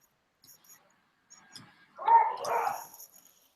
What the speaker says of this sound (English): My dogs are back from a walk and it's pouring, so they're not happy about being wet.